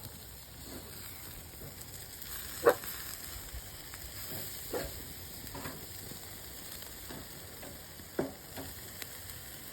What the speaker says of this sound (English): I'm gonna flip the zucchini